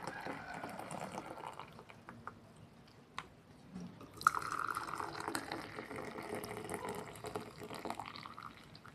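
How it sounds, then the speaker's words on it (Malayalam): Tea being poured into a glass in a home kitchen, a soft continuous liquid stream with small splashes and drips, close and fairly quiet, growing fuller midway through with no talking. "ഇത് ചായ ഞാൻ ഇപ്പം ഇതിലേക്ക് ഗ്ലാസ്സിലേക്ക് ഒഴിക്കുകയാണ്"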